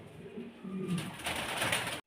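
Pigeons in a pair kept for sale coo softly in low, rolling notes for about two seconds, close by with a light background hiss.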